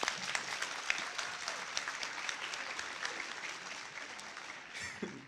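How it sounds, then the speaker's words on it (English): Audience at a middle school 8th grade recognition ceremony clapping, a steady dense patter of many hands, moderately distant, fading near the end. "Can we all give these amazing students a quick round of applause?"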